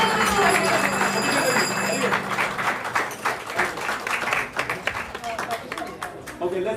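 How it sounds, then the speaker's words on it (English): An audience claps at a Sri Krishna Janmashtami 2023 gathering. Scattered hand claps swell into steady applause, with a voice speaking over the opening seconds. "let's give a big round of applause to Gopi Shankar"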